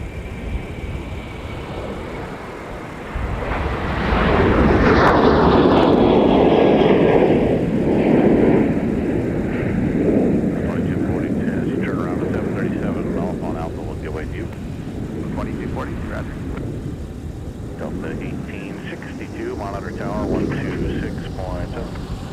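A Delta Boeing 757 takes off on runway 30 left at Minneapolis–Saint Paul in winter. A loud jet roar swells after a few seconds and holds, with engine whine sweeping, then eases under radio chatter.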